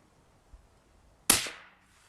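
A single 300 Blackout rifle shot, a sharp close crack followed by a short decaying tail, preceded by a faint click in otherwise quiet surroundings.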